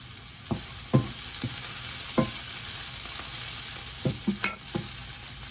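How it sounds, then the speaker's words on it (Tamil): Grated coconut, frozen and then thawed in a microwave, fries in a pan for a South Indian curry. It gives a steady sizzle, with several sharp stirring scrapes and clacks from a spoon on the pan. "இதை போட்டு வறுத்து கொள்ளலாம்."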